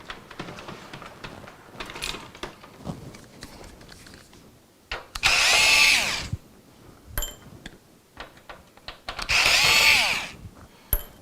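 A power tool drives screws into a gaming PC case during a tear-down, two loud whirring bursts of about a second each with quieter clicks and handling noise between them.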